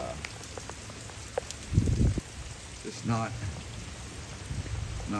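Steady rain patters throughout, with a person speaking briefly partway through and a few close drips.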